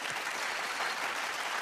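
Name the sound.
audience applause at awards show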